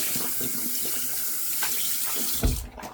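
Tap water runs steadily into a sink while a shave soap tub is rinsed, a close, even hiss ending in a brief clunk and splash as the flow is interrupted.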